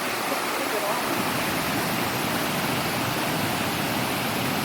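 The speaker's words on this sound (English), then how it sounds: "As you can see the water going down into the pool below." A roughly ten-meter waterfall pours into a large pool below, a steady, dense roar of rushing water heard close up throughout with no breaks.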